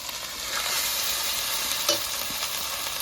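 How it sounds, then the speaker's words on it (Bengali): Spice masala with meat being stirred and fried, a close, even sizzle with a soft scrape of the spoon near the middle, continuous and with no voices. "ভালো করে নেড়ে চেড়ে কষিয়ে নেব"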